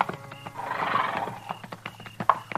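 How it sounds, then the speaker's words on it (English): Horses on a 1953 radio western set at a buffalo hunters' camp, with a close whinny near the start and scattered hoof clip-clops across the scene, fairly loud with no talk. "He had mules. This man's got horses."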